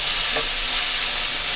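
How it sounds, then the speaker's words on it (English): A salted dish from a Jamaican backyard-garden breakfast is sautéed in a pan, giving a loud, steady, close sizzle with a brief stirring scrape, and no talking. "I'm gonna add a little salt to the dish. And just saute it."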